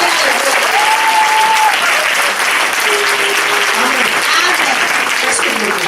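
Sustained audience applause fills a church gathering, dense and steady throughout with faint voices and sung tones drifting beneath the clapping.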